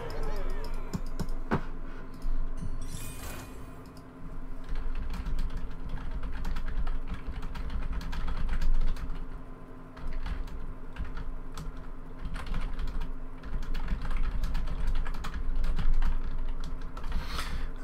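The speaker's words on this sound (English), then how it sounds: "forgive me for the typing, just saying some hellos" Rapid typing on a computer keyboard, bursts of quick key clicks running almost throughout, close by, over a steady low hum, with a voice talking at times.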